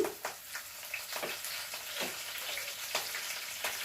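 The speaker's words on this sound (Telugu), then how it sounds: "మినపప్పు పచ్చిమిర్చి ఏగినయ్యి కరేపాక వేస్తున్నాను" Urad dal, green chilies and curry leaves fry in oil for a potato fry, a soft, fairly quiet sizzle with repeated crackling pops and light stirring.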